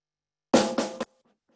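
A quick drum double-stroke roll: three fast hits run together in under half a second, followed by faint, fading taps.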